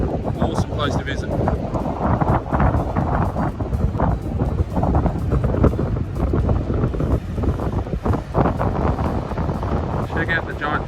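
Gusty wind buffets the microphone at Salmon Point on Rottnest Island on an overcast day, a loud ragged roar with repeated bursts and dips throughout, and a voice talks underneath it.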